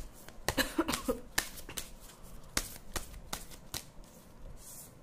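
A deck of tarot cards shuffled by hand to draw an advice card, close and fairly quiet, with a few brisk riffling bursts and softer card slides over a low background hum.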